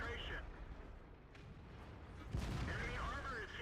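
Tank cannon fire in the video game World of Tanks, a heavy boom near the middle over a low rumbling engine backdrop, fairly faint overall, with someone talking throughout.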